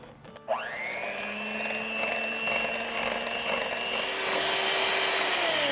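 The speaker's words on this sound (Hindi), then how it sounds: "बस अब इसको हमें बड़े अच्छे से बीट करना है। अगर आपके पास बीटर है तो उससे" Electric beater whirring as it beats oil and sugar for a coconut cake, starting abruptly and holding a steady high motor whine with a slight pitch rise, close and loud throughout.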